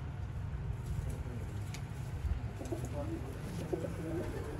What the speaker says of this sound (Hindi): मियाँ साहब वाले गोल्डन कबूतर